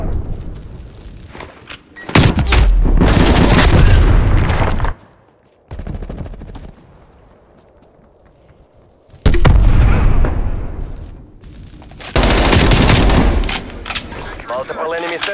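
Automatic sentry turret gunfire in Call of Duty Black Ops Cold War Team Deathmatch, heard in two long, loud sustained bursts separated by quieter stretches, with game announcer voice lines in the mix.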